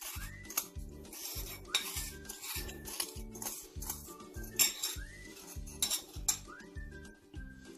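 A spoon grinds instant coffee granules into fine powder in a dish for tiramisu, giving repeated close scraping and light clinks of metal on the dish over a steady rhythmic background.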